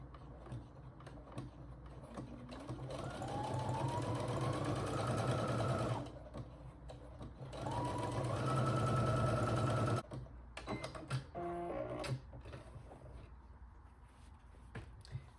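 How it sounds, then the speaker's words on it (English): Sewing machine stitching down the lining of a tote bag's front pocket, running in two steady motor bursts with a rising whine, close and loud, then stopping for faint handling clicks. "And then I'm gonna sew down this part right here."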